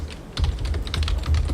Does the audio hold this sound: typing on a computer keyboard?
yes